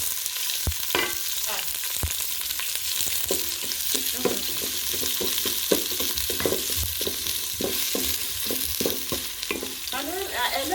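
Onions frying in a pot as the base of a bean stew curry, a steady sizzle broken by repeated scraping and stirring strokes from a wooden cooking stick, close and alone.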